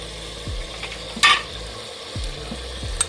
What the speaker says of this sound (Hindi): तो हम इसमें अब लहसुन अदरक का जो पेस्ट हमने बना के रखा है वो डाल देते हैं।